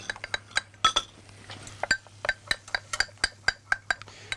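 A whisk or spoon stirs a batter of flour and sparkling water in a bowl, giving a steady run of bright clinks against the bowl's side, close up and fairly rhythmic, with a faint hum beneath.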